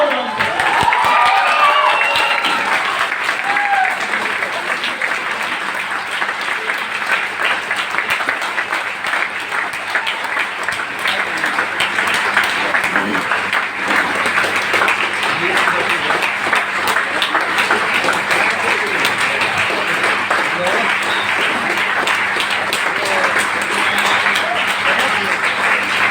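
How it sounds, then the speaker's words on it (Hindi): An audience at a motivational speech event in Patna, Bihar stands and applauds, a loud, dense wash of clapping with crowd murmur that continues steadily for more than twenty seconds. "एक बार खड़े होकर तालियां बजाओ।"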